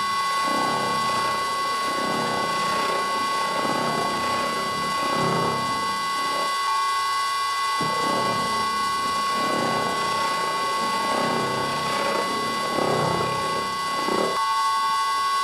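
Cheap Chinese face mill taking a deepening cut into metal on a vintage lathe: a steady high machining whine with pulsing, rhythmic cutter chatter rising and falling every couple of seconds, close and continuous with no talking.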